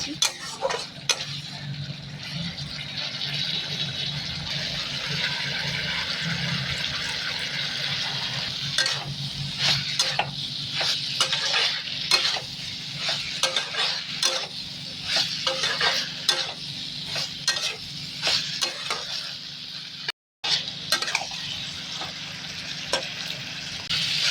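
Mixed vegetables fry in a pan with a long, steady sizzle, close and moderately loud, while a spatula stirs and clinks against the pan throughout.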